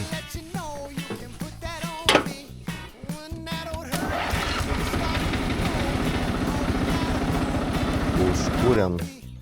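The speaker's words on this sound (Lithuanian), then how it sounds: "Užkūrėm traktorius važiavo." An old tractor engine, just repaired with welding, starts up and settles into a loud, steady chugging run. Voices talk over the first few seconds before the engine takes over.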